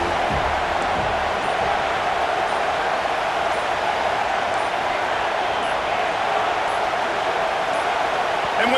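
Stadium crowd in EA Sports College Football 26 at a Georgia at USC game roars as a steady, loud, unbroken wash of noise lasting the whole stretch, with no individual voices standing out.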